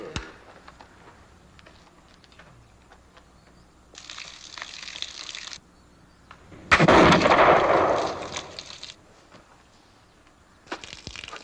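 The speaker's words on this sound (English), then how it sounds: "Well, that's good shooting, Mr. Brasher." A Pennsylvania longrifle discharges at a target with a loud, rolling boom that decays over about two seconds, set among quieter rustling and noise bursts outdoors.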